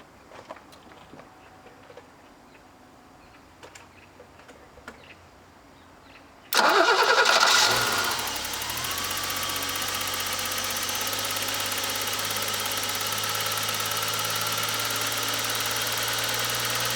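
After ten years of sitting, a BMW E30's engine cranks and catches with a sudden loud burst, revs briefly, then settles into a steady, even idle, following a stretch of quiet handling clicks.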